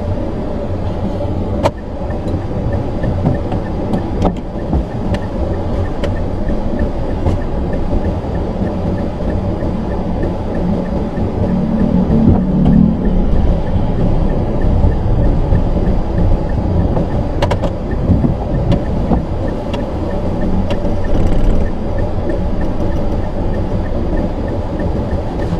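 A car idles and rolls through a three-point turn with dry steering on a roadside, its low engine rumble steady and close throughout with faint road noise, no talking.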